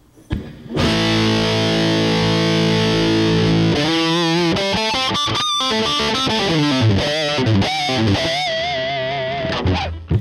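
A heavily distorted electric guitar through a PX5D starts with a sustained power chord, then launches into a fast, chugging metal riff, loud and up close.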